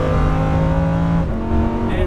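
A Lamborghini Huracan accelerates hard on a racetrack, its engine a loud sustained howl with rising tonal harmonics close by, shifting pitch briefly near the end.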